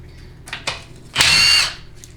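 Power tool spinning off transmission pan bolts on a Chrysler A904 automatic transmission in a shop, a couple of short clicks and taps followed by one loud, close half-second burst of whirring, rattling tool noise, then quiet.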